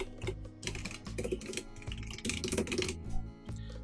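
Fingers type on a computer keyboard in a quick, uneven run of close, crisp key clicks, with brief pauses between bursts of keystrokes.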